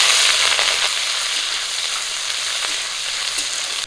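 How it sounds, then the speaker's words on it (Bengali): Chopped onion and slit green chilies dropped into hot oil in a home kitchen, giving a loud, steady, close sizzle and crackle throughout with no voices. "গরম তেলে দিয়ে দেবো পেঁয়াজ কুচি আর কাঁচা লঙ্কা চিরা"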